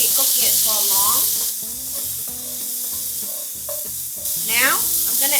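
Garlic butter steak bites sear in a hot pan with a loud, close, continuous sizzle and spatter that eases slightly midway, then swells again.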